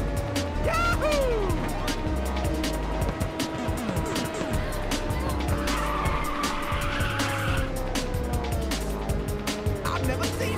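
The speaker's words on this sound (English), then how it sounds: "I've never seen a drift like that!" Tires screech as a race car drifts in Ridge Racers 2, a sustained squeal over a roaring engine and energetic game music, with a voice announcer talking throughout.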